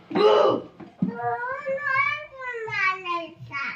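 A sick child gives a short cough, then speaks in a high, drawn-out voice, with a faint cough-like sound near the end.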